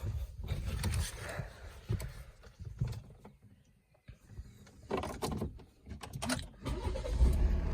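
A 2012 Volvo V60 2.0 D4 diesel with automatic gearbox starting up, heard fairly faint with a brief quiet gap followed by the engine catching and settling into idle, mixed with clunks and mechanical noises.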